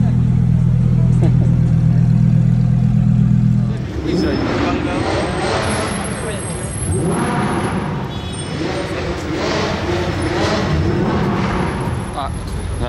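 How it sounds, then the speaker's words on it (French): A Range Rover SVR at a Modball Rally supercar street gathering revs past with a loud, rising engine roar and crackle, after a steady low drone, while people talk nearby. "Ça c'était un SVR"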